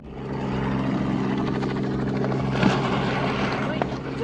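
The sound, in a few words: helicopter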